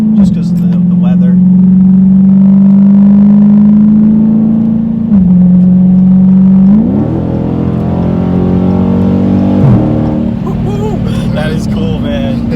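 Dodge Challenger Scatpack 392 Shaker with a loud straight-pipe exhaust accelerating: a deep, close, booming engine note climbs steadily, dips briefly at each gear shift, then climbs again over two or three shifts.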